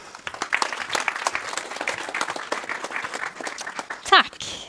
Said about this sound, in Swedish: Du får också en applåd